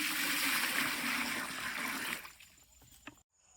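Water rushes in a loud, steady pour while cooking chicken biryani, then tapers off into a few quiet trickles and drips before stopping.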